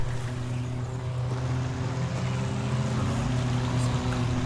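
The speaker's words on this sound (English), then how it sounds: "I hear a heavy engine." A heavy Ferdinand tank destroyer engine rumbles in the Forgotten Hope 2 video game, a loud, continuous low drone with steady tonal hum and no pauses.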